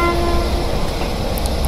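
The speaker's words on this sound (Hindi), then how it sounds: "चलो यहाँ से दूसरा वाला हॉर्न ट्राई करते हैं हम लोग" A locomotive horn sounds on the Jan Shatabdi Express in the Railworks train simulator, a steady, loud tonal blast that holds briefly and fades, with a few faint clicks after.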